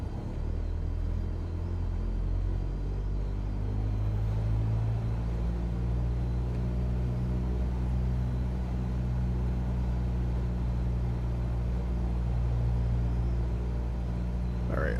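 The engine of a Reims Cessna 172 in Microsoft Flight Simulator 2020 runs up to 1800 rpm, a loud, steady propeller drone with a low rumble that swells slightly and holds for the whole stretch.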